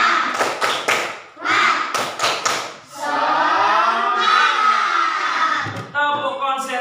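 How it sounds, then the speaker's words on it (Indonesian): A primary school class does the 'tepuk semangat' clapping chant, sharp rhythmic claps in quick bursts followed by children chanting together loudly and closely, with a teacher's voice nearby. "mari kita ice breaking terlebih dahulu ya. Nah, dengan cara tepuk semangat."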